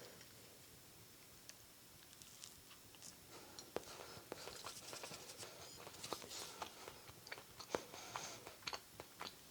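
Eating a slice of keto peanut butter bread: soft, faint, close-up chewing and small sticky mouth clicks repeating irregularly for several seconds, with no talking.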